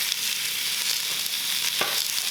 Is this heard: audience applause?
no